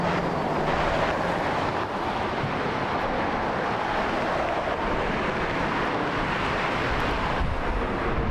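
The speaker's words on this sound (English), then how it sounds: "the wind has shifted too" Wind gusts across the microphone at Las Vegas airport, a loud, constant rushing roar that buffets continuously with no other distinct sounds.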